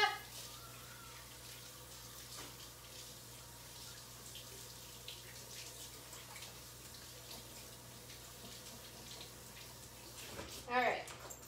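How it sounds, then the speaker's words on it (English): Running tap water while hands are washed at a kitchen sink during air fryer chicken parmesan preparation, a steady low wash of flow lasting throughout with a brief louder splash near the end. "I'm gonna wash my hands off really quick"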